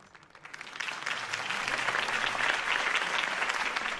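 Applause from a crowd in Batman: The Telltale Series builds quickly and then holds as steady, dense clapping, moderately distant and with no voices.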